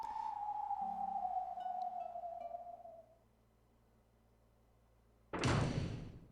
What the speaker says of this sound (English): At that moment, there was a quiet sound of a door closing.